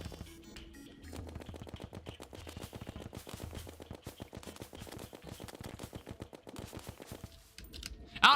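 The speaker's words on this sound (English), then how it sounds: "So I just kind of have to keep shooting at the grass." Rapid rhythmic gunfire from a ranger weapon in Terraria, fired continuously at grass, a steady stream of sharp clicking shots at moderate level that stops near the end.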